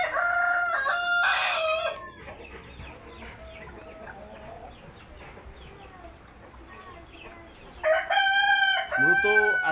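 A breeder rooster of the Laiza breed crows loudly in two bursts, one at the start and one near the end, with softer clucking and other fowl sounds in between.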